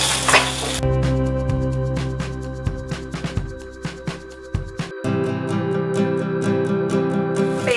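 Colocasia pieces fry in a pan with mustard seeds and chilli powder, hissing with a loud, steady sizzle while a utensil scrapes and clinks against the pan in quick repeated strokes.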